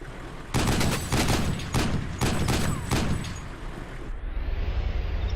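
Gunfire in the video game DayZ, a rapid series of loud close shots in quick succession, followed by a lingering outdoor ambience.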